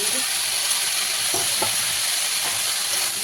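Leafy greens sizzle and crackle steadily as they fry in a hot pan, with a few soft stirring scrapes standing out over the constant hiss.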